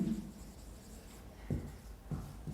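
Pen or chalk writing out a short English sentence, with scratchy strokes arriving in a few separate bursts over quiet room noise, close and fairly faint.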